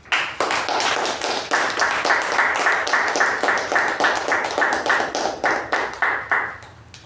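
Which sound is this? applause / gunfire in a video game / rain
applause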